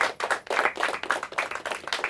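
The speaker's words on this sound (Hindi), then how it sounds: "इनके लिए भी तालियां हो जाए" An audience at a Hindi quiz final claps in a fairly close, steady, rhythmic burst of applause that pulses evenly throughout, with no speech over it.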